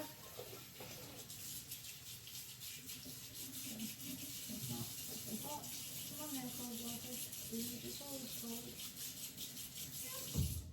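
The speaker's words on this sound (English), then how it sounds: "I'm going to wet my hands in some cold water." Cold water runs quietly from a kitchen tap while hands are wetted during sourdough bread making, a soft continuous rushing with rubbing sounds and a person talking over it.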